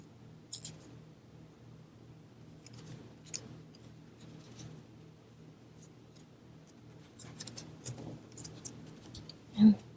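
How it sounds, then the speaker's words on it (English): Scissors snipping through paper while setting up a planner dashboard, a few quiet, close cuts spread over a soft background hum. "I'm going to cut this in half."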